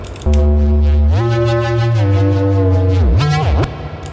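A reversed reese bass synth sample with reverb, made in Ableton Operator, plays as a loud, buzzy sustained tone that steps up in pitch, then dips and bends before cutting off, with no voice over it.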